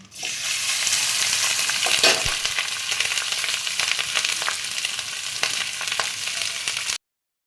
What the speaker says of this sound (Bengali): আমার ফোড়নটা ভাজা হয়ে গেছে, এবার আমি ভাতটা দিয়ে দিচ্ছি